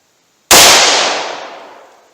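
.327 Federal Magnum revolver firing a 100 grain Speer Gold Dot load, a single sharp, loud report that rings out and decays over about a second and a half.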